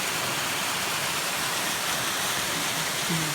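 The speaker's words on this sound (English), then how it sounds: "That's Obsidian Falls right there." Obsidian Falls on the Three Sisters Loop Trail, a steady, broadband rush of falling water heard close and continuous, with no other sounds standing out.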